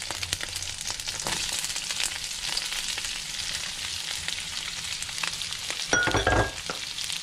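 Garlic, ginger, onions and scallions sizzle and hiss steadily in a hot pan while being stir-fried for beef noodles, with scraping stirs and a louder burst of frying near the end.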